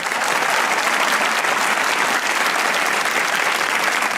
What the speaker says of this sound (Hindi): इनको देखो, एक एक लाइन पे इतनी तालियां बजा दी